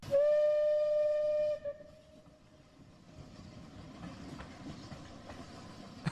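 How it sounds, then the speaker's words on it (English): A train passing, caught on a phone: a loud, steady horn blast for about a second and a half, then quieter rumbling and rhythmic clatter of the cars rolling by. "Right when the train passes."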